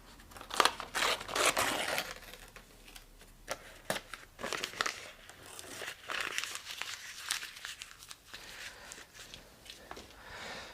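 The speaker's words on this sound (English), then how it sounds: "So we'll take this red paper topper off like this." A red paper topper is peeled off a fuse in a series of soft, close crinkling and tearing rustles, quiet and intermittent with brief pauses.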